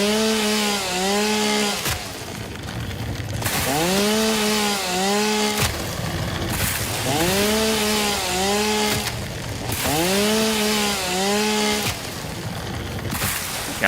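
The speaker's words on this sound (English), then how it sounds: "I love my chainsaw." Chainsaw cutting in the video game Satisfactory, several loud bursts of revving engine whine with rising and falling pitch, separated by short gaps, no voices.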